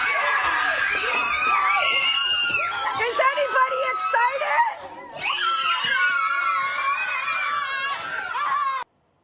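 A group of children in Nevada shriek and cheer with joy, high excited screams and overlapping shouts in a loud crowd, with a brief lull midway before the screaming resumes.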